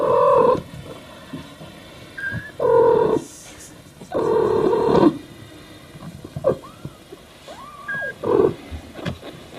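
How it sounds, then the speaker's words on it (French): A mother cat purrs and gives soft chirping trills to her litter of kittens in short repeated bursts, close by, with brief quiet gaps between them. "là il y a une communication de dingue avec la portée de chaton"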